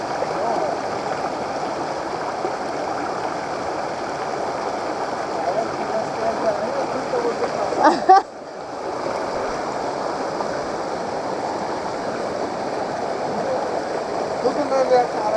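A waterfall pours in a steady, dense rush of water, close and continuous, broken by one brief knock or bump partway through.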